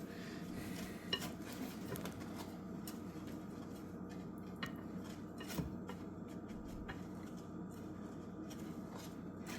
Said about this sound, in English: I'm going to whisk all of my dry ingredients